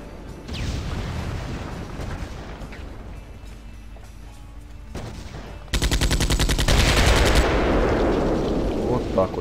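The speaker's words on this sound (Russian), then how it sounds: "Тут пулемет." Rapid machine gun fire in the video game Made Man bursts in as a loud, sustained stream of shots after quieter game ambience and scattered noises, carrying on to the end.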